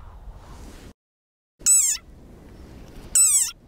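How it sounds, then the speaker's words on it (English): A desert rain frog gives two loud, sharp, high-pitched squeaks, each about a third of a second long and a second and a half apart, with rustling between them. "Like this desert rain frog. Squeaking viral sensation."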